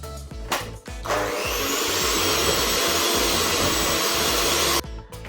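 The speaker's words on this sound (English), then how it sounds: "when you are whisking your butter and sugar together, you want to start off at a low speed first and then start gradually building up to a high speed" A stand mixer whisks butter and sugar for cupcakes, its motor ramping up after a few knocks into a steady loud whirring drone that holds for several seconds before cutting off.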